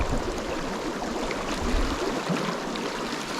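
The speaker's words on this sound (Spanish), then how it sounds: "escuché algo, un agua, un riachuelo de las montañas" Water runs from mine tailings of the El Salvador mine along a desert road in the Atacama, a steady rushing and gurgling stream, fairly loud and close, with no speech.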